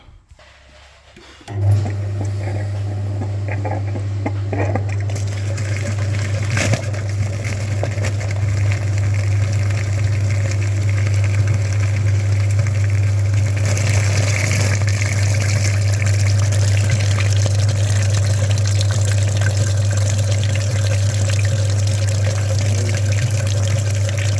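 A coolant flushing machine switches on, hooked to the front radiator of a VW Golf 4 with the BFQ engine, after a few clicks and handling sounds, then settles into a loud, steady pump hum with a low drone and rushing liquid.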